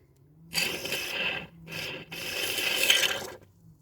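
Grease being forced into the gearbox of an Audi A2, heard as close rasping, squelching pushes in three long bursts with short pauses between, loud and without speech.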